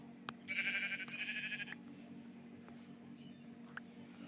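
Goats bleat in a Minecraft farm pen, one short wavering bleat standing out clearly over a low steady background hum, followed by faint softer game sounds.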